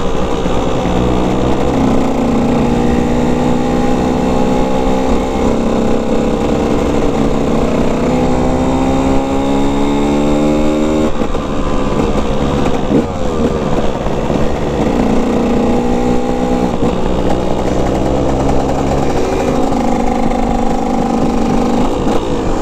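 A dirt bike engine running out on open moorland, revving up and easing off in repeated rising and falling sweeps, close and loud the whole time, with no talking.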